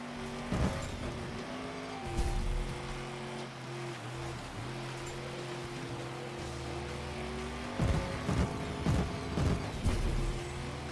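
A car racing on gravel in an Xbox One game, with a steady engine drone and gritty tyre rumble throughout, punctuated by a few sharper surges and skids, loud and continuous.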